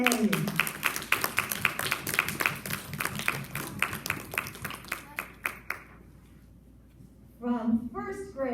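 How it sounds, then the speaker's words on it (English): Children at a school awards ceremony clap together in a dense, fairly close burst of applause that thins out and stops, followed by a pause and then an adult voice starting to speak. "Boys and girls, please join me in applauding all of our 5K nominees today."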